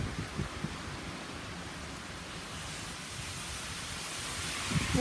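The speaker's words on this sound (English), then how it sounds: "Dude, this is a big storm." A thunderstorm with strong gusting winds fills the scene with a broad, steady roaring rush of wind and rain, a low rumble underneath and a few louder gusts near the end.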